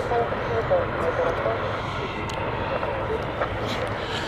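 A jet airplane at Stansted Airport gives off a steady, broad engine roar that holds at an even level throughout, with muffled voices underneath.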